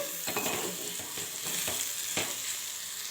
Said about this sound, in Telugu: అల్లం వెల్లుల్లి పేస్ట్ అయితే వేసుకోవాలి అలాగే ఒక రెబ్బ కరివేపాకు వేసుకోవాలి వీటిని వేసేసి చక్కగా కలిపేసుకోవాలి